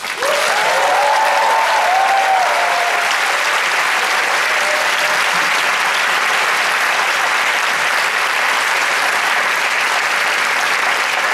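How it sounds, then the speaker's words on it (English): Loud, sustained audience applause fills a large hall at an opening ceremony of an international congress in Russia, a dense steady wash of clapping with a few voices rising early, continuing unbroken throughout. "give the biggest round of applause for ISIC in Russia, for the Congress Committee, and for all the partner and sponsors that support this event"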